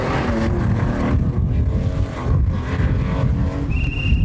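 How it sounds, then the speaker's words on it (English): A Porsche 911 rally car at a 1997 historic rally runs with a misfiring engine, its loud, rough roar stuttering and uneven, with dips in revs and a faint high whine near the end. "the Maharafeld driver's Porsche 911 has a misfire"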